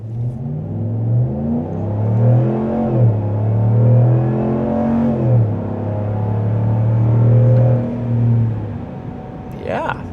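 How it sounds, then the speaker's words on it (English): A 2026 RAM 1500 pickup with a Hemi V8 accelerates hard from a standstill, its deep engine note climbing steadily through rising revs and dipping at gear changes, loud and close throughout. "Come to a complete stop and floor it."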